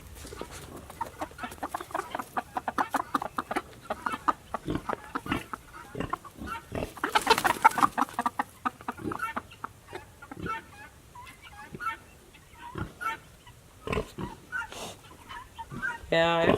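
Guinea fowl give repeated clucking, chattering calls around a rattlesnake on farm ground, with other chickens mixed in and people talking intermittently throughout.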